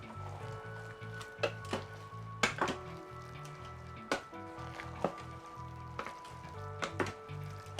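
Chili mac gets stirred in an Instant Pot, with soft thick squelching and several sharp clinks of the spoon against the metal inner pot, close and fairly quiet, no talk.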